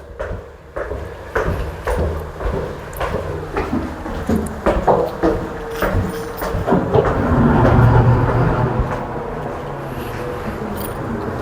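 Train rolling through a rail terminal, with rhythmic clickety-clack of wheels and clanks of cars, swelling into a louder rumble midway before settling to a steady roll.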